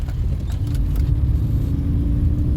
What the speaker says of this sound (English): He just jumped the lights, that car that went across